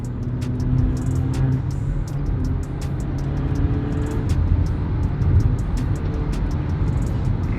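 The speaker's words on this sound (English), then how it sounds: "let's hear the exhaust note" A Haval H6 GT engine drones with a low, steady exhaust rumble from inside the vehicle, with faint ticking clicks scattered over the hum.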